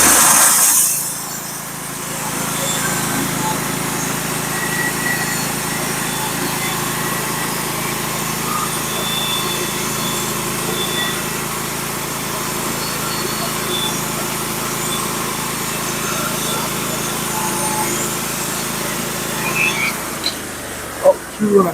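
A Norwood HD36v2 portable sawmill running as it mills a big oak log, a steady loud engine drone lasting throughout, dropping off near the end into a few knocks.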